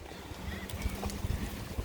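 Steady gusting wind roars against the microphone during a Jeep drive, a low rumbling buffet with irregular louder bursts throughout.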